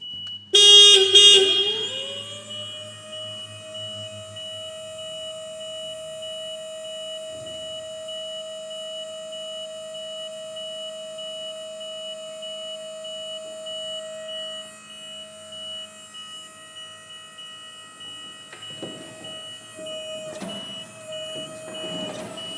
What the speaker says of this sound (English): from the remote I can click a button and all 4 outrigger legs lower down together and level the chassis of the machine